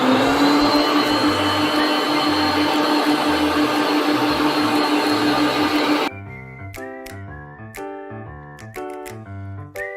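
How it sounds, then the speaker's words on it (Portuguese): Electric mixer beating eggs at medium speed while sugar is added, a loud steady motor whir for about six seconds that then stops, leaving quieter intermittent clatter. "vou bater em velocidade média e acrescentar o açúcar aos poucos"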